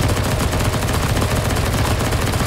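Rapid, continuous gunfire from a CS:GO zombie escape match, dense automatic shots hammering close and loud for the whole stretch with no pause and no talk.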